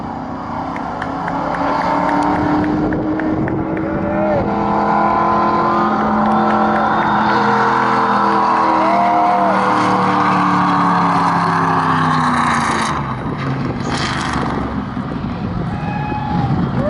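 Formula 1 race cars scream past at the American Grand Prix, their high engine whines sweeping up and down in pitch as several pass one after another, loud and close against crowd ambience.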